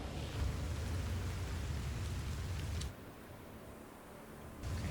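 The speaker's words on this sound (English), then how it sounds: "it's raining blood." Rain falls in the fantasy game Pathfinder: Wrath of the Righteous, a dense, steady hiss of downpour that cuts out abruptly partway through, leaving a quieter lull before it resumes.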